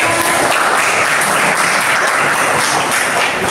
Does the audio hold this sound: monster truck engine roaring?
no